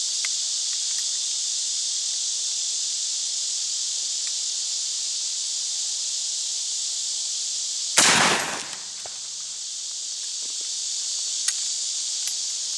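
A single loud, close gunshot from an 1847 Springfield Dragoon Carbine at an outdoor shooting range, a sharp blast with a short decaying tail over a steady high insect or cricket drone.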